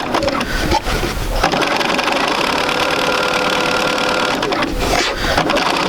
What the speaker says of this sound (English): let's go ahead and sew that 1/4 of an inch on either side